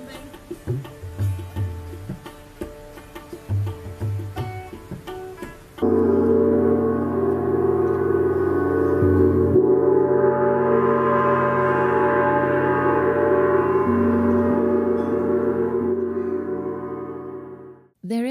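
A tanpura drone sounds during a performance of sacred music, starting midway and holding a steady, rich layered hum for over ten seconds after a brief stretch of other sound, then cutting off abruptly.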